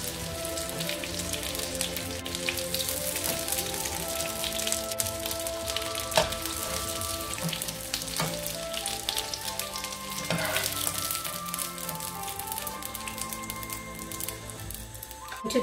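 Pieces of trout fillet deep-frying in hot oil, a dense, continuous rain-like bubbling sizzle, close and even throughout.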